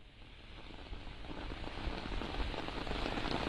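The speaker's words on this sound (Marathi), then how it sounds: "उपनगरांमध्ये रिमझिम पाऊस सुरू आहे." Light drizzle falls over the Mumbai suburbs as a soft, even patter on surfaces. It grows slightly denser and louder over the few seconds.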